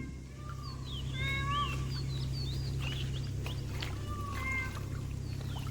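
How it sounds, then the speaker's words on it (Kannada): Peacocks calling near a coastal Mangalore stay in the morning, several sharp wailing cries spread across the clip over a steady low hum and background noise. "ನೀವು ಇಲ್ಲಿ ಕೇಳಿಸ್ಕೊಂತ ಇರ್ಬೋದು ಎಷ್ಟು ಚೆನ್ನಾಗಿ ನವಿಲು ಕೂಗ್ತಿದೆ"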